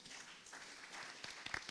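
Applause from a community audience at a local election forum, a faint, soft patter of hands at a distance with a few sharper claps near the end.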